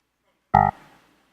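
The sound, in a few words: debugging sound cue signalling a timeout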